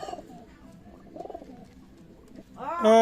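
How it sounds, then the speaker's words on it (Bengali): Pigeons coo at a large pigeon market in Khalishpur, Khulna, with several low, rolling coos close by and a louder, brighter burst of bird sound at the end. "এটা হচ্ছে লালপাড়ি কবুতর রানিং পেয়ার"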